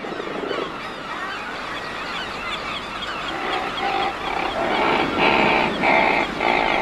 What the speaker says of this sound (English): the curious young seals are attracted by the birds' noisy cries